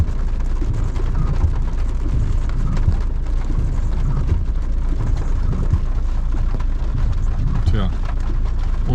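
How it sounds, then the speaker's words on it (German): Rain falls outside a stationary car, heard from inside as a loud, constant patter and rush that carries on steadily throughout. "ihr hört vielleicht den Krach. Draußen regnet es."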